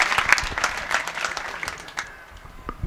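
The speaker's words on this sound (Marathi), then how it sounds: "टाळ्या वाजवा जरा" A crowd claps for a donation announced toward building a temple. The applause is steady and lively, then thins and fades near the end.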